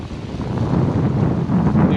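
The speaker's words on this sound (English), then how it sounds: "And it's windy as hell" Strong wind buffets the microphone outdoors at a seaside fish fry in Governor's Harbour on Cat Island, a loud continuous rumbling roar with gusts swelling toward the end, and no clear talk.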